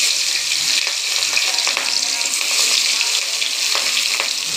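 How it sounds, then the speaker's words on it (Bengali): Pieces of stingray fish sizzle and fry in hot oil with a continuous bright crackle and hiss, occasional sharper pops rising above the steady spattering. "দেওয়ার সঙ্গে সঙ্গে তেল ছিটে আসবে।"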